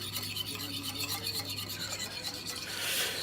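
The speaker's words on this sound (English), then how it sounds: "I need to beat them. Now, I'm going to use a small whisk for the eggs" A small hand whisk beats eggs for a Teisen Lap batter, giving a steady, close, scratchy rasping with quick repeated strokes and no talk.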